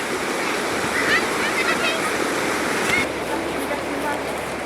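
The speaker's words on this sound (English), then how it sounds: "so welcome to Switzerland's highest waterfall" Switzerland's tallest waterfall roars as a steady, dense rush of falling water heard up close, with voices talking over it briefly.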